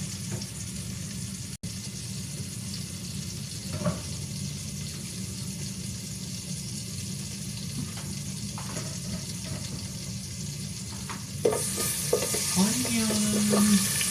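Onion sautéing in a pan while cooking sopas, a steady soft sizzle running throughout, with a brief louder clatter and stirring near the end.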